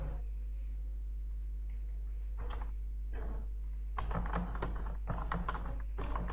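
Typing C code on a computer keyboard: sparse single key taps at first, then a quicker run of clicking keystrokes in irregular clusters, close and fairly quiet over a steady low hum.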